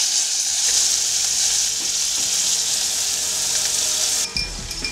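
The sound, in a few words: pork loin steak frying in a pan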